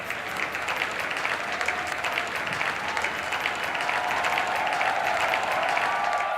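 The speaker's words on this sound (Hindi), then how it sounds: "एक बार जोरदार तालियां नीलम शर्मा जी के लिए।" Audience applause at a conference session for a senior journalist, steady sustained clapping from a large crowd filling the whole stretch at even loudness.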